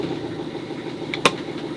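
Sailboat engine idling in neutral after warming up, a low steady faint rumble with a brief click partway through, heard just before shutdown.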